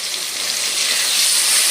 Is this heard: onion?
yes